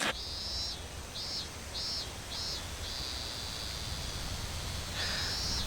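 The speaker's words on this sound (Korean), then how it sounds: "나뭇잎이 바람에 흔들리는 소리나 또 매미가 우는 소리." Cicadas buzz in several short, pulsing bursts, then a longer drone, faint over a soft, constant rustle of leaves.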